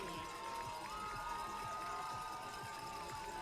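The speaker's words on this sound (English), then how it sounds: "And you can hear the crowd" Crowd noise carries steadily beneath the finish of a men's 8,000-meter cross-country race at the Bill Dellinger Invitational in Oregon, with a dense, continuous wash of spectators and scattered whistle-like tones throughout.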